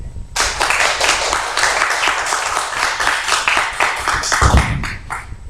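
A church congregation claps together in a sustained round of applause, dense and loud, lasting several seconds before tapering off.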